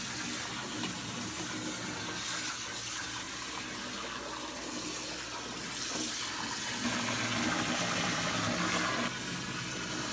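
A bar of handmade sunflower-shaped soap with yuzu and cocoa is held under a running tap, giving a steady, close rush of splashing water throughout with no talking.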